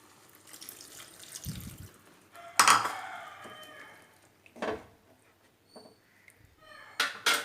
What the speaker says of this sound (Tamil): இன்னும் கொஞ்சம் கூட தண்ணி சேர்த்துக்கலாம்.